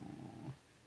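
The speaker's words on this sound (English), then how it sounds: "It was like half purr, half sigh." A cat makes a short, low purring rumble that fades out like a sigh in under a second, close and soft, with no talking.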